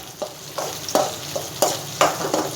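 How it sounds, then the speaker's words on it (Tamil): Onions and chilies sauté in a pan for ragi vermicelli. A soft continuous sizzle is broken by about half a dozen sharp scraping strokes of a spoon, close and rhythmic, with no talking. "வெங்காயம் மிளகாய் வதங்கிச்சு."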